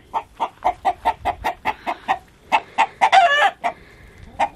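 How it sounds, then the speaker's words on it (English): A rooster on a farm giving the rhythmic clucking call a hen makes before laying an egg, a quick series of about twenty loud, close clucks broken by a brief squawk. "That's the typical noise that a hen makes when she goes to lay an egg."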